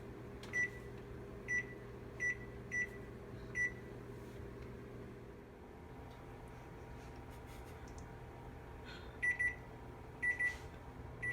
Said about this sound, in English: After the oven is closed, set the timer for 5 minutes.